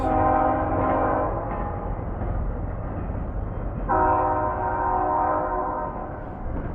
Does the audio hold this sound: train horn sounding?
yes